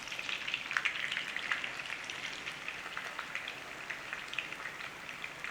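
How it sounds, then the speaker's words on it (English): Irish boxty potato pancakes made from mash fry gently in a pan over a low flame, giving a steady, dense crackling sizzle throughout with no voices. "So give it a nice gentle frying in there."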